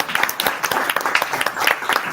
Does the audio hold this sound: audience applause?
yes